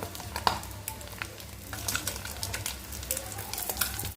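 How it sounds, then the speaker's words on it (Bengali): Halved eggs frying in oil for egg curry, a quiet, crackling sizzle with soft pops and a few light utensil touches, steady and close, without talking. "ডিমগুলো ভালো করে ভেজে নিচ্ছি অর্ধেক করে"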